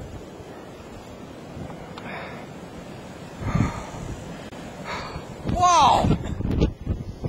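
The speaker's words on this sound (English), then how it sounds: "You can just see the wind blowing the snow across here" Strong wind drives snow across open ground, a steady rushing roar with gusts that swell louder toward the end, while a voice exclaims over it.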